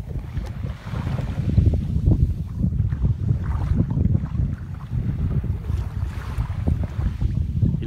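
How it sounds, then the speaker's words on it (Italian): Wind blows over the sea off the Laghetti di Marinello nature reserve, a steady gusty rumble buffeting the microphone with surf-like wash underneath, continuous and fairly loud with no talk. "Il vento forse si è rafforzato un po'"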